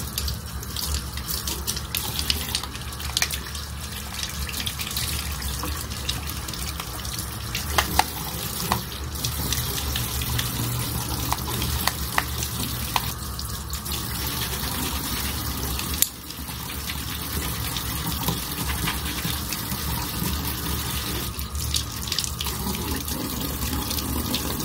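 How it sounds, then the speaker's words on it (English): Tap water runs steadily into a sink while makeup brushes are washed, a constant close gushing with small splashes and shifts in flow throughout, with no talking. "I am going to wash my brushes"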